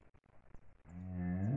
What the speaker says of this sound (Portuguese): a bezerrinha da Quixaba que está berrando aqui